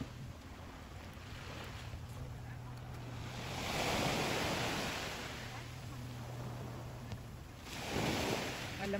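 Ocean waves wash ashore near a beach tent, a steady roar of surf that swells and recedes twice, with wind buffeting the microphone throughout.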